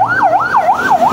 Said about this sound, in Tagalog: May dumaan pang ambulansya.